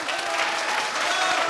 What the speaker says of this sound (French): Applaudissez pour les gourous.